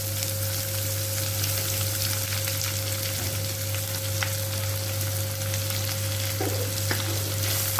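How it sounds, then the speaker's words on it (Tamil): Onions with green chillies and curry leaves sizzle steadily in a pan in a home kitchen, a continuous close crackle with a low electrical hum beneath and no talking. "அடுத்ததா பச்சை மிளகாய் அண்ட் கொஞ்சமாக கருவேப்பிலை. தேவையான அளவு வெங்காயம் போட்டுக்கிறேன்."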